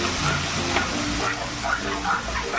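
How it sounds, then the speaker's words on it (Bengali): Pointed gourd fries and gets stirred in a pan over a medium gas flame, giving a steady, close sizzle with faint scraping of the stirring throughout. "এবারে গ্যাসের ফ্লেমটাকে মিডিয়ামে আমি ভালো করে নাড়াচাড়া করবো"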